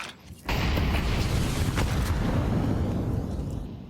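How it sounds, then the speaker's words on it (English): Grenades exploding in the Counter-Strike 2 video game during a professional esports match, a loud sustained boom that hits suddenly after a brief quiet moment and rumbles on before slowly fading. "Nades landing at the back"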